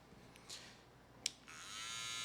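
A small, lightweight cordless electric hair trimmer switching on and running, a faint buzzing hum that starts after a couple of soft clicks and holds steady at the end.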